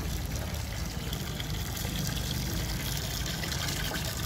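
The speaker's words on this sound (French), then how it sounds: "voilà comment l'eau sort, n'est-ce pas" Water gushing steadily out of a solar-powered photovoltaic pump: a continuous, close, broadband rush and splash that stays even throughout, with no talking.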